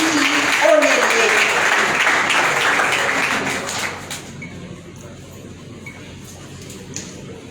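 Applause at a tribute ceremony for young role models, a dense, loud wash of clapping for about four seconds that then fades quickly into quiet room tone, with a few stray claps afterwards.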